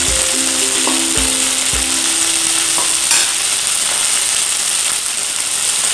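Khasi mutton tipped into a pan of golden-brown fried onions, sizzling steadily and loud with a few clanks of the utensil at the start, no voices.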